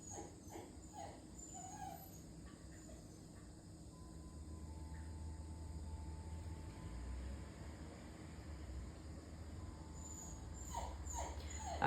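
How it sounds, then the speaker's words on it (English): Several dogs bark and whimper in the background of a quiet indoor room, giving scattered yips and whines at low level, with brief clusters near the start and end. "Don't mind the dogs, hopefully they quiet down a bit."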